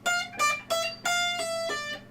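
Fast shred guitar lick, played with economy picking plus hammer-ons and pull-offs: a quick run of bright, sustained notes in several bursts, close and clear with no talk.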